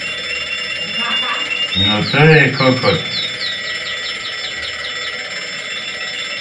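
An alarm clock rings with a rapid, high, trilling chirp that repeats for several seconds. A short burst of spoken voice cuts in near the start.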